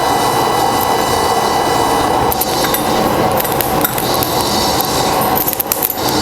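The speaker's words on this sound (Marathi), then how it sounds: "बघा कसा आवाज आले लायाचा" Sorghum (jowar) grains popping while being roasted and stirred in a hot pan, a dense continuous crackle with scattered sharp pops throughout, close and fairly loud, with no talk.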